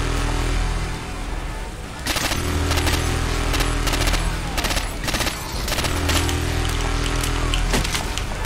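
Mounted heavy machine gun in Left 4 Dead 2 firing in long sustained bursts, dense rapid reports with a brief pause near the start, loud and close over a steady game-ambience rumble.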